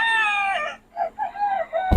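A rooster from a Batangas flock crows loudly and close by: one long drawn-out crow, then a string of shorter calls that ends in a sudden burst.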